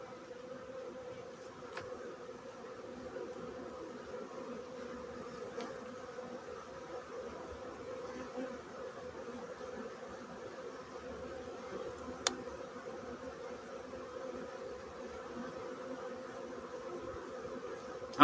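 Honeybees hum in a steady, dense drone from an opened beehive with a new queen, close and continuous, with a few faint clicks and no talking.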